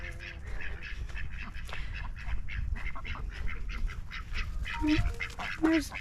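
A busy chorus of ducks quacking and other birds calling in an aviary, overlapping and continuous, with a few louder nearby calls toward the end.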